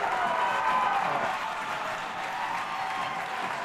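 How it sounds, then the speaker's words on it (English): Crowd roaring and applauding at a men's college ice hockey game between Dordt and Nebraska-Omaha, right after a late goal seals a 7-6 win; a dense, sustained wash of cheering and clapping holds steady throughout. "Crowd is electrified right now"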